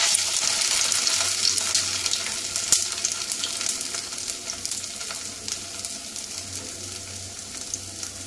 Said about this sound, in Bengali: তেলটা গরম হলে আমি বড়াগুলো ছাড়বো